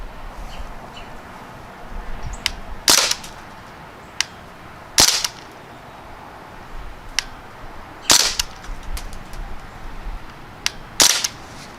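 A Crosman Panther Arms DPMS BB rifle fires single sharp snapping shots outdoors, four louder cracks spaced a few seconds apart with fainter clicks between, against a quiet background.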